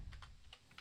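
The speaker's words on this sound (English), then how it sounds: "typing" Keystrokes on a computer keyboard while setting up a software build configuration: a handful of quick, light clicks in an irregular rhythm, close and fairly quiet, with no voices.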